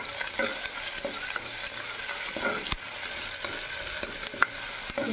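Chopped onions and green chillies frying for mutton curry, a continuous close sizzle broken by repeated clacks and scrapes of a spoon stirring against the pan.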